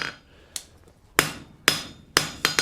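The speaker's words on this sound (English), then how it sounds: "we're going to hammer that until it's about the width of the face of the hammer" Hammer blows on flat steel stock over an anvil during a forging exercise: six sharp, ringing metallic strikes in an uneven rhythm, loud and close, with no talking.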